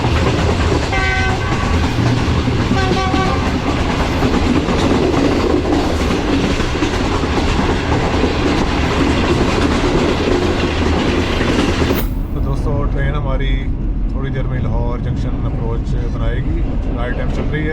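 Green Line passenger train rolling through a railway station at night, a steady dense roar of wheels and carriage rumble that continues throughout, with the high end abruptly dropping away partway as the sound muffles.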